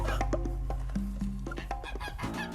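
A talkative goose honks and cackles in a few loud, close bursts mixed with other fowl-like calls, with no speech.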